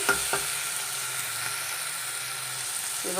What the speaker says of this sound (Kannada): ಇವೆರಡನ್ನ ಸ್ವಲ್ಪನೇ ಬಾಡಿಸ್ಕೊಳ್ಳೋಣ